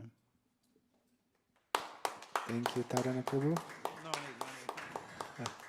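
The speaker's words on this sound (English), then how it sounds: "No need for applause." At a live yoga wisdom talk, an audience breaks into applause after a chant. The clapping starts abruptly after near silence and continues as a patter of close claps while a voice speaks over it.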